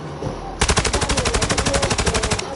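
Rapid automatic gunfire from Modern Warfare 2 starts abruptly after a short pause and then hammers out a steady, fast burst of evenly spaced shots close and loud for about two seconds.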